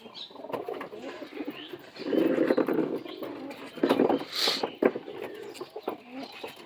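Madras pigeons coo in short, low bursts, fairly close, with some wing or cage noise around them and someone talking over parts of it.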